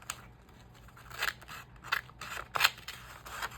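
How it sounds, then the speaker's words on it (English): Regular scissors snip through paper pages for a junk journal collage, a few distinct crisp cuts spaced out over a quiet room background with no talking. "Where's a regular pair of scissors? I'll cut those out."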